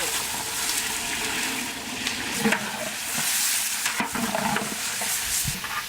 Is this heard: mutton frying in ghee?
yes